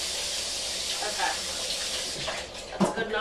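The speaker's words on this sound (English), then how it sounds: "So I'm just rinsing it in the sink" Running water from a sink tap as a stencil is rinsed by hand, a steady broad hiss with brief splashy bursts near the end.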